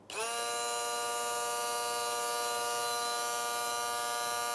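A Mueller 8-speed immersion blender runs at maximum turbo power, spinning up sharply and then holding a steady, loud, high-pitched motor whine alone for several seconds.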